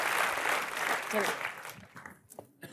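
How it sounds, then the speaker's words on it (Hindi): Comedy show studio audience claps, a loud burst of applause that fades out midway, followed by someone speaking. "चलिए फिर हो जाए एक बार तालियां भज्जी और गीता के लिए"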